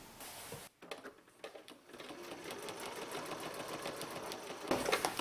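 A sewing machine stitches a lengthened seam down the center of a denim envelope purse, whirring in a fast continuous chatter after a short start and stop, fairly close and steady to the end.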